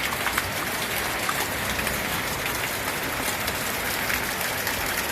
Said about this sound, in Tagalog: lakas po talaga ng ulan ngayon